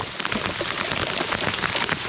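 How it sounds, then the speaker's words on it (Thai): Steady rain falls by the Songkhram river, a dense even patter of drops close by with no voices, continuous through the short stretch. "จางสายฝนเลยนะ"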